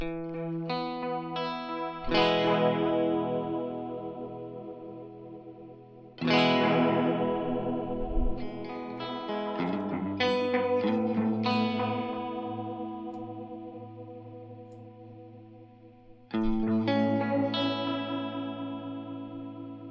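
Sustained notes through a Flower Pedals Dahlia dual analog delay with triangle-wave modulation; repeats shimmer with a regular pitch modulation, loud and continuous, with new chords struck every few seconds.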